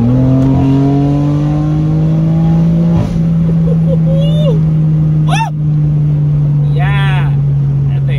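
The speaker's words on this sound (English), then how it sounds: "All right, that was me flooring it." BMW M3 engine in sport mode under full throttle, a loud steady droning engine tone held close up, with a voice speaking briefly over it.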